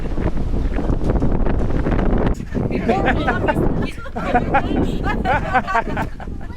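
Strong, cold wind at Swartz Bay, Victoria, Canada, buffets the microphone with a constant roar, while people talk and chatter underneath.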